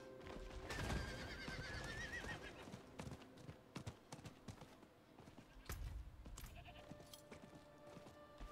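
A horse whinnies and its hooves clip-clop in a modded Call of Duty Zombies video game, set among dense game noise, tonal effects and scattered clicks, with the loud neigh near the start and steady hoofbeats running throughout.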